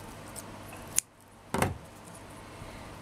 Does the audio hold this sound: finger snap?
no